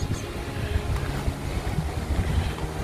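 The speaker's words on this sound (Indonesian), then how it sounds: "Angin kenceng tapinya." Steady, strong wind roars and buffets the microphone with low rumbling gusts outdoors in a garden with pear trees, no voices.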